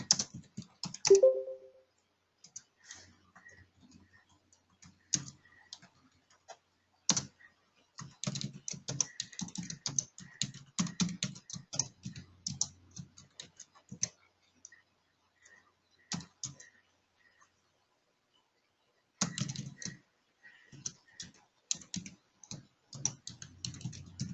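Typing on a computer keyboard while writing SQL queries, quick irregular runs of light key clicks with short gaps and one longer silence, close and fairly quiet.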